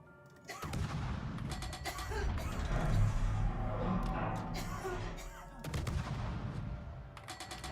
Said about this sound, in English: That salvo ought to kill him.